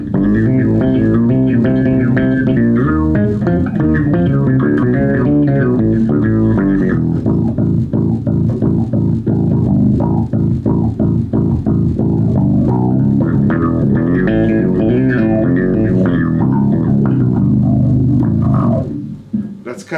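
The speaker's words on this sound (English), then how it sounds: "I'll tell you what sounds really good is both the envelope filter and the bass octave pedal" A bass guitar runs through an envelope filter and a bass octave pedal together, giving a loud, continuous run of growling, quacking notes with a deep doubled low end that plays for the full twenty seconds before trailing off.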